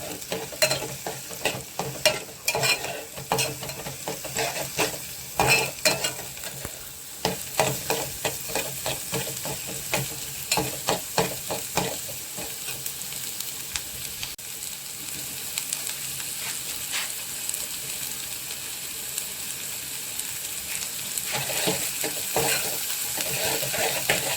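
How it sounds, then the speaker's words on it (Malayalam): Shallots sautéing in a pan for fish thoran, with a steady close sizzle and repeated scraping stir strokes throughout, busier clatter early on easing into continuous frying. "ഇനി ഇതൊന്ന് വഴറ്റിയെടുക്കാം"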